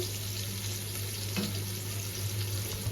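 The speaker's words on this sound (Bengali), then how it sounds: "এটাকে একটু ভেজে নিচ্ছি পেঁয়াজ আর আদাটাকে।" Sliced onion and ginger fry in hot oil in a home kitchen, giving a steady soft sizzle with a low hum underneath and an occasional brief stir or clink, with no talking.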